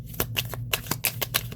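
Tarot cards being shuffled by hand, a close, crisp series of about eight quick riffling snaps in an uneven rhythm.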